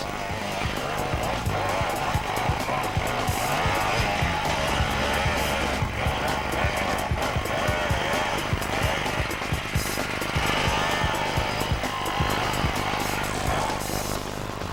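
An enduro motorcycle engine is held very low in the revs on a twisting climb, close to stalling with the clutch in constant use. It makes an uneven, chugging burble with irregular pulses and surges.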